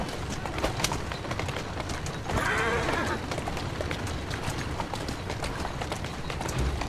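Rapid clip-clop of galloping horse hooves in Assassin's Creed Syndicate, busy and continuous, with a brief rushing swell midway and no voices.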